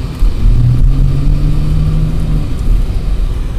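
An all-wheel-drive car drives through deep snow during a storm, its engine droning loudly and steadily from inside the cabin with a brief rise in pitch, and no one speaks.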